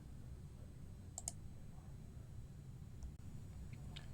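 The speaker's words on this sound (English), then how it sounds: "click on the upload button" A computer mouse click on an upload button sounds as a faint, close double click over quiet room hiss, followed by a couple of softer clicks.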